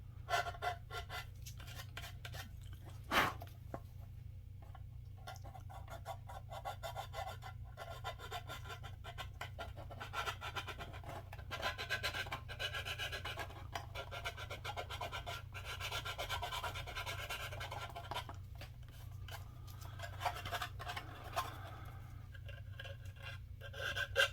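Fine side of a hand file rasping steadily along the edge of a small part for a race team build, a continuous soft rubbing stroke texture that goes on for the whole stretch, low in level and with no voices.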